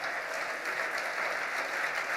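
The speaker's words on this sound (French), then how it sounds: "Applaudissons le Seigneur Jésus ensemble." A church congregation applauding together during a worship service, steady dense clapping that holds at an even level with no voices over it.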